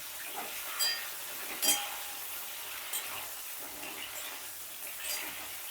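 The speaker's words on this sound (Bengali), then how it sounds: "এবার আমি কপিগুলো দিয়ে দিচ্ছি কপিগুলোকেও হালকা লাল লাল করে ভেজে নেব" Cauliflower florets fry in hot oil for an aloo phulkopi dalna, with a soft continuous sizzle broken by a few sharp clinks of a spoon or utensil, and no voices.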